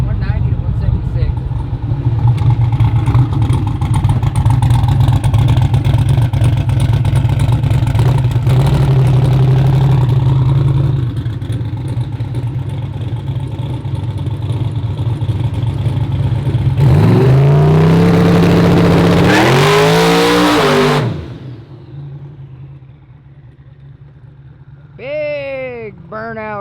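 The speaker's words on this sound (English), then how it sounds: "Big burnout over the shore cord guy" A 1500hp twin-turbo street car idles and revs with a deep, steady rumble, then breaks into a loud, screaming burnout with rising revs before cutting off, followed by faint chirps in the quiet aftermath.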